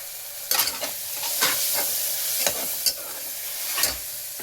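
Spice paste fries in a pan with turmeric as it is stirred, soft sizzling broken by several quick scraping spoon strokes close by, with no talking.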